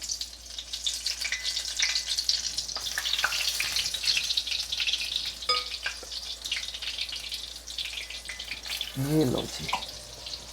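Batter-coated spinach leaves deep-frying in hot oil for Indian street-food chaat, a steady loud sizzle throughout, with a brief spoken voice near the end.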